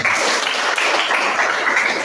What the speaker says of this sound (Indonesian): Ibu minta tepuk tangan semuanya.